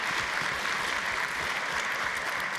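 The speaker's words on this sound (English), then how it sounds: "Big round of applause for those folks." An audience at the MIT 100K Launch Competition claps in a brief, steady burst of thanks for the organizing committee, even and continuous with no voices.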